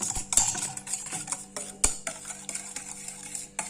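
Curd and rava batter being beaten in a bowl with a utensil: quick, uneven clinks and scrapes against the bowl, close and fairly soft.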